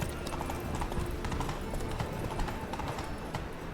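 Hooves of Roach, the horse in The Witcher 3 video game, clip-clop in a steady trotting rhythm over a dense ambient game backdrop, close and continuous with no clear voices.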